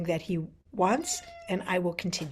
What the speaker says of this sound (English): you can hear my cat is meowing in the background